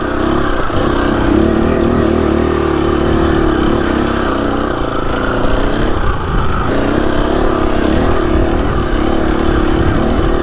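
A Husqvarna FE 250 dirt bike fitted with a 13-tooth front sprocket roars loud and close on a mountain trail, its engine note rising and falling in sustained revs with no speech.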